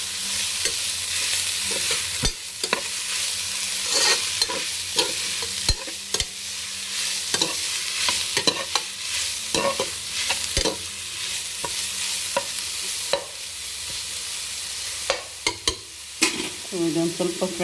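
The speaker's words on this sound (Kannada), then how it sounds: "ಇದೊಂದು ಸ್ವಲ್ಪ ಫ್ರೈ ಆಗಲಿ" Pumpkin pieces fry in a pan for Kashi halwa under a continuous soft sizzle, while a spoon stirs and scrapes the pan in frequent irregular knocks and clicks, close and fairly loud.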